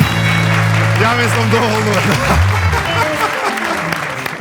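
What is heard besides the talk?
audience applause for Vladko Lozanovski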